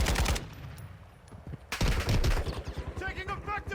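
Rapid automatic gunfire bursts in Warzone 2.0 on Ashika Island, an RPK among the weapons, loud and close, with a short lull before more fire resumes over brief in-game voice callouts.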